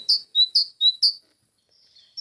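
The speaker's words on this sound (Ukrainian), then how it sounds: "Малята, як ви думаєте, хто так співає? Так, це пташка." Small songbird chirping in a quick series of five bright, high tweets, close and clear, followed by a faint trailing call with no talking.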